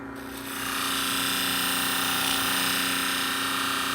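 Olivia Garden salon shears are ground on a sharpening machine, the motor spinning up then holding a loud, steady whine with a rasping grind of metal against the wheel.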